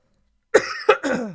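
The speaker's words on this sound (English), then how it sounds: "I'd be glad when this cough stops" Three harsh coughs in quick succession, loud and close, after a moment of silence.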